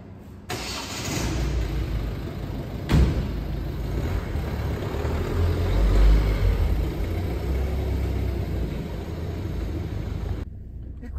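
Volvo V50 D2 diesel estate car pulling away on a road test drive, a steady mid-pitched engine drone with low rumble inside the cabin, one brief thump early on, fairly loud and continuous.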